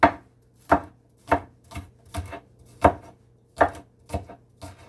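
Green onion being chopped with a knife on a board: about nine crisp, separate thuds at an uneven, unhurried pace, close and clear against a quiet background, no speech.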